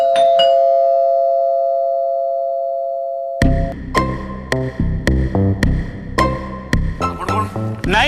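A doorbell rings in a home: a sustained two-tone electronic chime fades slowly, then a quick series of bright melodic notes plays in a loud, clear run.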